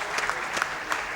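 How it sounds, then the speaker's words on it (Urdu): Audience at an Urdu literary conference on Jaun Elia bursts into brief, dense applause, a close and steady clatter of many hands clapping. "جناب اس پر تالیاں بنتی ہیں"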